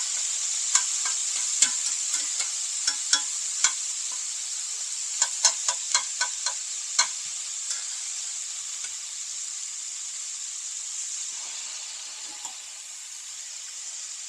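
Garlic sizzling hard in a very hot pan, a steady bright hiss throughout with a cluster of sharp clicks from a utensil stirring it around, close and alone without voices.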